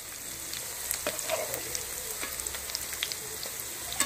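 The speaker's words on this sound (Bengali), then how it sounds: "মুচমুচে করে পাকোড়াগুলিকে ভেজে নেব" Watermelon rind pakoras frying in oil, a soft continuous sizzle with scattered small crackles and pops, close but fairly quiet.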